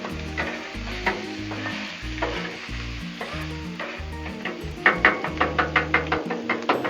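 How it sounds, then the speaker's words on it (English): Sausage fries on a hot Blackstone griddle with a loud, steady sizzle. A spatula stirs and knocks against the flat top, first in spaced bursts and then in a quick run of rhythmic taps toward the end. Nobody speaks. "Let's stir our sausage up a little more."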